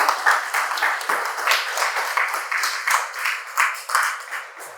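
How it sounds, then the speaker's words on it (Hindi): Applause breaks out in a classroom-style talk for people who gave a correct answer, a steady patter of many hands clapping at close range for several seconds, with no voices over it. "उनके लिए तालियां।"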